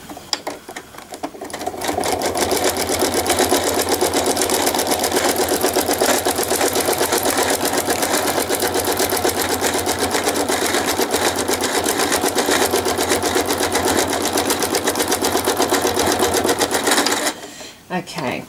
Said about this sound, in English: So I'll get back into stitching this little area